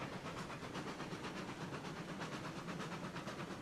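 A steam locomotive runs along the line in Derail Valley with a steady, rhythmic chuffing hiss and rolling rail noise, continuous and fairly close.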